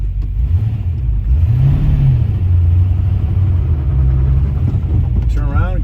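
A supercharged 1966 Shelby GT350 drives along with a deep, steady engine rumble that rises and falls slightly as it pulls, heard from inside the car.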